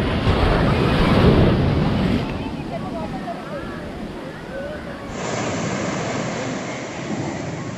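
Sea waves at a beach in Kochi, Kerala, rush and wash steadily, with wind buffeting the microphone and people talking faintly in the background.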